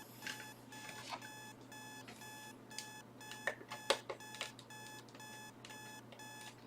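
A digital alarm clock that won't switch off beeps in a steady repeating pattern of bright chirps, moderately loud over a low background hum, with no talking.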